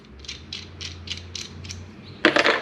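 Handles on a Tipton Best Gun Vice, with 5/16-18 threads, being unscrewed: a close, steady series of short ratcheting clicks about twice a second, ending in a louder, rougher burst.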